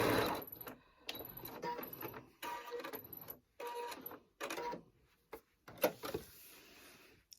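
A sewing machine zigzag-stitching the binding onto a quilt, running in close, fairly loud bursts broken by short stops and pauses, with no one speaking.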